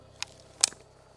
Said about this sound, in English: I'm coming in and I'm racking it